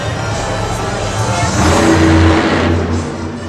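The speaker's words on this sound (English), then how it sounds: "His engine seems to be popping a little bit too." Monster truck engine at a Monster Jam stadium event in St Louis, revving loudly and popping roughly, a dense roaring drone with rising surges under arena noise and commentary.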